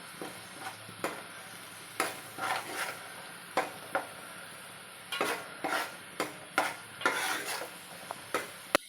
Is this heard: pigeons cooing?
no